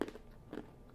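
Homemade goldfish crackers are bitten up close, giving two short, crisp crunches, one at the very start and another about half a second later, fairly quiet with no speech.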